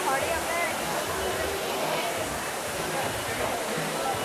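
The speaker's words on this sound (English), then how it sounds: "It's kind of a fountain and a waterfall in one" Water rushes steadily from an indoor fountain-waterfall aboard the Royal Caribbean cruise ship Allure of the Seas, a dense continuous wash with a murmur of crowd voices underneath.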